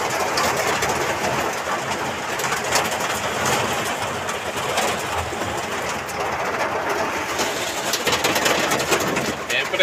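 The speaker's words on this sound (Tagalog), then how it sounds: "Okay, lakas ng ulan." Heavy rain and strong wind during a typhoon, heard by a truck driver on the road. The roar is a constant, loud wash of hiss with no breaks that lasts the whole time.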